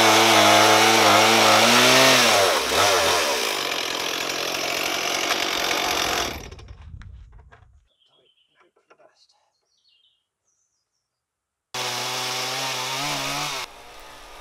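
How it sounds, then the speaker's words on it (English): A chainsaw on a large mitering jig cuts big wooden slabs, roaring loud and close for about six seconds before winding down. After a quiet gap it starts again briefly, with birds chirping faintly. "a big Frankenstein mitering jig for the chainsaw that can cut really quite large slabs"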